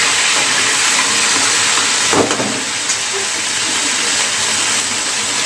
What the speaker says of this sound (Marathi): अद्रक लसूणची पेस्ट टाकायची आहे चांगली हलवून घ्यायची